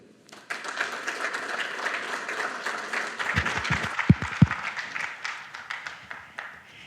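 Audience applause welcoming a lecturer to the podium at a university-style lecture, steady clapping from a crowd that builds, with a few sharp louder claps near the end.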